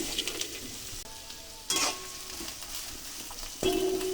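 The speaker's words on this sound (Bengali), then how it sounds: "তাতে সর্ষের তেল দিয়ে দিলাম পরিমাণ মতো ওই তেলে দিয়ে দেবো পেঁয়াজ কুচি" Chopped onion frying in mustard oil in a wok on a gas stove, a steady close sizzle with brief louder bursts as the pieces are stirred.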